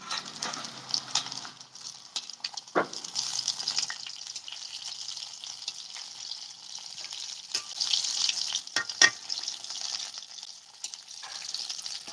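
Fish sizzles steadily in a pan on a stove, with a bright, continuous crackle of frying broken by a few sharp clinks and scrapes of stirring.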